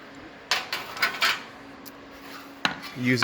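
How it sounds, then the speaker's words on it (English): A new Jaguar fender panel being shaped by hammer against an old oak post, giving several sharp metallic knocks in an uneven rhythm with a quiet gap, then a final strike and scraping, heard close with no voices. "I had an old oak post, and I'm just hammering it into that shape."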